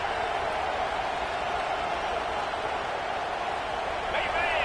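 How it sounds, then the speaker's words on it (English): Stadium crowd noise from a football video game, a steady broad roar as the defense plays in the red zone, continuous and full throughout with no distinct peaks. "the crowd coming to life here, trying to help this defense down in the red zone"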